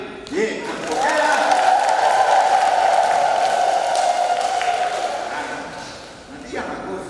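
A congregation applauds in a church during a Mass blessing the building, with steady clapping for several seconds under a sustained, ringing voice-like tone before it dies away.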